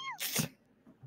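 A single sharp sneeze, close and fairly loud, after a short high-pitched squeak, followed by faint low sounds.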